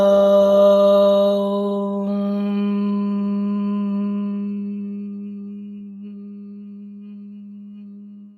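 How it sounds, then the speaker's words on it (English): A single sustained Om is chanted in a vocal toning session, a steady hum rich in overtones that slowly fades over several seconds, with the closing mm ringing on alone. "we're going to move on to our Om sound"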